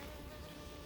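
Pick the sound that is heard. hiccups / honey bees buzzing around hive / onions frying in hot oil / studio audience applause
honey bees buzzing around hive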